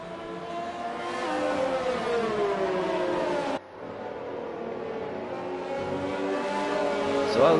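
Race cars on a formation lap at the Japanese Grand Prix in a sim racing game, engines droning and rising in pitch through the gears, with a brief dip mid-lap, heard under a commentator's voice.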